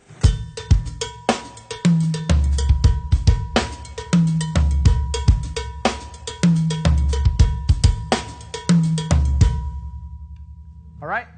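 A Mozambique Latin groove plays, with a sharp, metallic cowbell pattern repeating in a fast, steady rhythm over a funky bass line and drums, stopping near the end.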